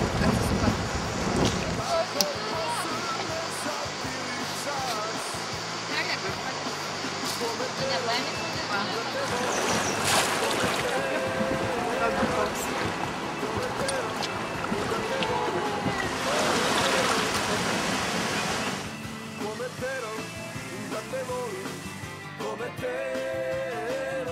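Rushing, churning river rapids surge loudly around a raft in Bosnia and Herzegovina, with splashing and wind buffeting the microphone throughout.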